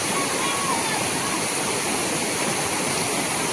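Steady, loud rushing of water, like a fast stream tumbling over rocks, filling the whole clip with continuous broadband noise.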